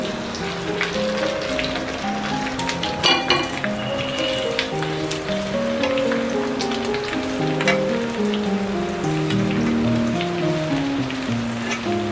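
Okra sliced as lady finger sizzles steadily in about half a cup of hot cooking oil, a constant close crackle with sharper pops, under a soft melodic tune and no talk.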